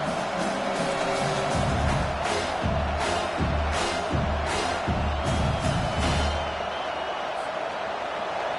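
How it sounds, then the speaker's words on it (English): Football stadium crowd roaring behind the defense on third down, a loud sustained wall of cheering with sharp thuds and bangs, while a voice talks over it. "Decibels rising as the crowd gets behind this defense on 3rd down."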